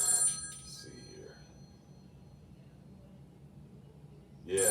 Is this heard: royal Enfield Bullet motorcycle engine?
no